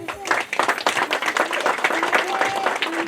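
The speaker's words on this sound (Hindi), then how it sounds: "इसलिए हम सभी लोग एक दूसरे के लिए जोश ताली बजाएंगे।" Guests at a Hindu wedding ceremony clap together, a loud scattered round of applause with uneven bursts, heard over ongoing talk and background voices.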